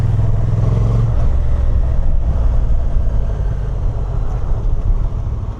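A 2025 Honda NT1100 DCT motorcycle climbing a hill under load, its engine droning steadily with wind rush while the automatic dual-clutch transmission shifts up, the tone dropping after an early upshift.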